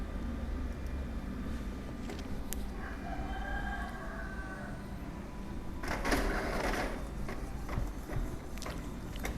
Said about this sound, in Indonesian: Sekarang kita coba tes print.